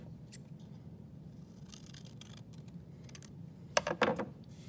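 Scissors snip through paper to cut right triangles apart, a few quiet crisp cuts with a louder cluster of snips near the end, no voices.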